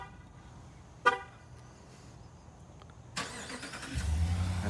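A white 2019 Ram 1500 Big Horn crew cab 4x4 truck with a Hemi V8 gives a single horn chirp on locking, then its engine turns over remotely and settles into a low steady idle, heard from outside at moderate distance.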